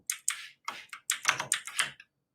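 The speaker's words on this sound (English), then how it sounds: "I apologize for my shitty typing." Fast, irregular clatter of typing on a computer keyboard during a coding stream, with short bursts of keystrokes and brief pauses, close and clear with no talking.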